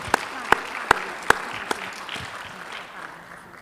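At an international economic and education conference, a few sharp, close, evenly spaced claps ring out over softer, scattered clapping from the audience, with some voices in the background.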